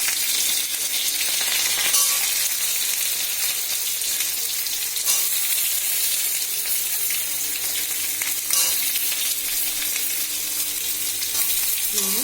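Eggplant and potato pieces frying in hot oil with blackened cumin for a hilsa fish curry, a loud, continuous sizzle with a few brief clinks and stirring scrapes.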